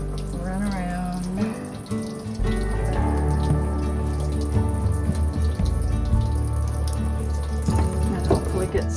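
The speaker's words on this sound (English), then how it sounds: "I'm just going to go quickly under the sink with this, not too much." Water runs steadily from a sink tap, splashing and rushing continuously as a drawing is held briefly under the stream, loud and close for several seconds.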